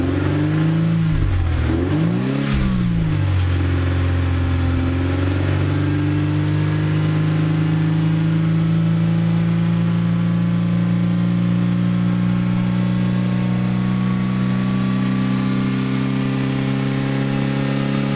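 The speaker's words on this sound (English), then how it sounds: "Let's rev it up a bit more and see how much smoke we can get out." A Mercedes W202 C230 engine, with Seafoam being burned off after a throttle body cleaning, blips twice sharply near the start, then settles into a long, steady, raised-rpm drone, loud and close with no talking.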